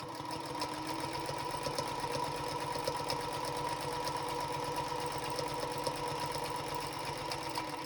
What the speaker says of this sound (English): We can just go ahead and stitch down the seam